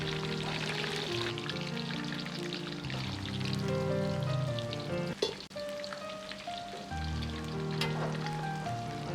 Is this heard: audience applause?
no